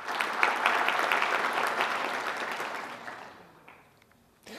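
Audience applause at an opening ceremony, thanking sponsor Aruba: a dense, steady wash of many hands clapping that thins out and fades in the final second, with no talking.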